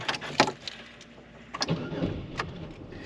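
A Chevy Monte Carlo with a hard-start problem cranks briefly and catches, a short burst of starter whir giving way to a low engine rumble, close and loud, with a few sharp clicks around it.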